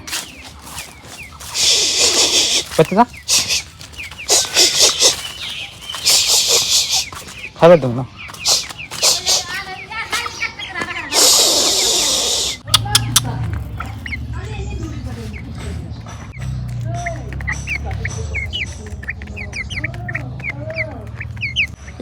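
Young broiler chicks chirping, many high rapid peeps in busy bursts close by, later thinning to scattered cheeps over a low hum while a person speaks briefly.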